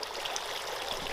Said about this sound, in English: I already got water on the first level, the second level, and now the third.